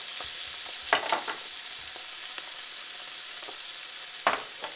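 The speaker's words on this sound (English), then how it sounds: "look at those eggs cook" Eggs frying in a pan give a steady, even sizzle throughout, broken by a few sharp crackles and pops, close and with no talking.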